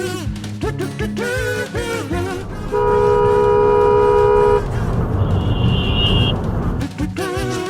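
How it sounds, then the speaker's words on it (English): A car horn sounds in a long steady honk from a nearby vehicle amid road noise in dashcam driving footage, with a second, shorter higher-pitched horn answering a moment later. "She honked back."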